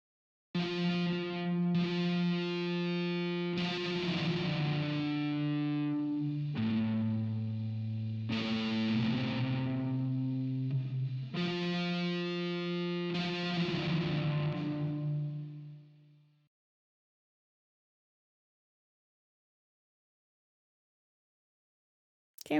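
Synth-like musical phrase through a fully wet audio effect in Mixcraft with the dry signal turned down, thick chorus-and-distortion tones in sustained note blocks that stop abruptly near the end.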